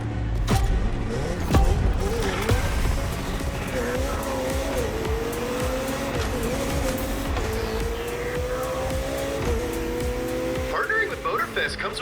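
Koenigsegg Jesko hypercar driven in the racing game The Crew Motorfest, engine tone rising and shifting through gears with tire squeal, loud and continuous over game music and a voice speaking.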